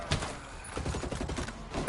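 Gunfire in the game Tom Clancy's Ghost Recon Breakpoint on PS4: a rapid, rhythmic volley of shots with a sharper, louder bang at the very end.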